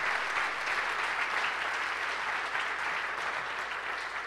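An audience applauds sprinter Ján Volko with sustained, dense clapping that stays loud and even throughout, no voices rising above it.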